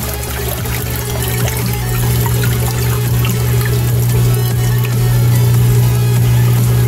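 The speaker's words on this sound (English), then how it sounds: "Here is the valve. There we go. Wonderful sound." Dirty fish-waste water pours and gurgles steadily from a valve into a mineralization tank, a continuous rushing drain with a low hum underneath and no talking.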